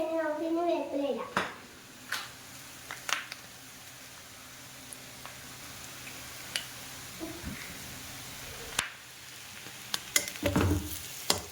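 Clam meat frying in a pan with curry leaves and a little turmeric powder, giving a steady close sizzle broken by sharp stirring clacks and scrapes, with a short voice at the start.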